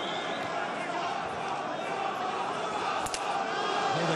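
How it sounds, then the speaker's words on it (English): Spectators at a Bellator MMA event roar behind a local fighter, a continuous crowd din with shouts running under a commentator's voice, plus a brief sharp thud near the end. "Hear the crowd getting behind the local man here."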